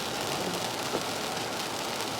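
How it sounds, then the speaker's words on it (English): Hard rain falls steadily on surfaces near Good Springs, Nevada, a dense even hiss with no breaks throughout. "But now it's raining hard and my camera does not do well"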